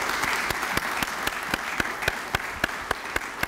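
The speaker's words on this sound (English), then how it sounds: "I'd like to offer a round of applause to our panel here" An audience applauds a panel at a conference session, steady dense clapping throughout with a few sharper individual claps standing out near the front.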